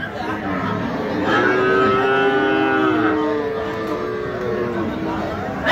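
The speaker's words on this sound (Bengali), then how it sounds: "আলহামদুলিল্লাহ মোটামুটি ভালোই গরু আসছে।" Cattle lowing repeatedly at a busy livestock market, long drawn-out moos rising and falling close by over a steady background of crowd murmur.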